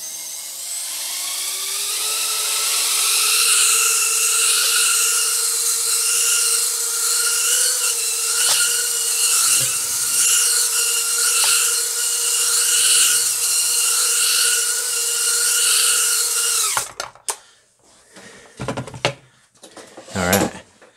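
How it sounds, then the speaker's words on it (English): Tiny props on a Mobula 6 toothpick drone spin up into a high, steady whine with layered tones that waver slightly as throttle shifts, close and loud for about sixteen seconds before cutting out abruptly into brief handling clatter. "These little props are struggling to pick up that little bit of extra weight that we got."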